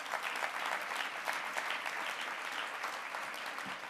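Guests at an awards luncheon in a Times Square hotel ballroom applaud an honoree, producing a steady wash of many hands clapping at moderate distance, sustained evenly throughout.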